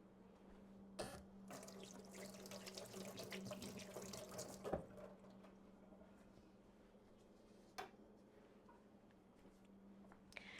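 Steady running water from a kitchen tap while a spoon is rinsed after stirring strawberry overnight oats, a continuous close wash with a couple of brief clinks and splashes, no talking.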